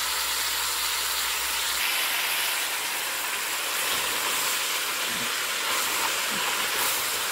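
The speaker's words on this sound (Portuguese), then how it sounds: "eu vou colocar ela para ficar bem fritinha de todos os lados." Pork ribs fry in hot oil in a pan, a steady broadband sizzling hiss that holds at an even level throughout, close up with no talking.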